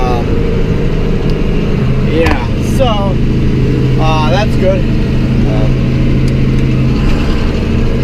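A John Deere 4840 tractor engine idles steadily with a constant low hum, while someone talks over it near the machine.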